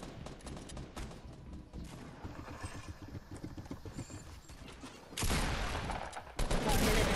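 Gunfire in the Fortnite battle royale video game crackles in rapid bursts, starting as a quieter patter and then breaking into two loud, dense volleys near the end.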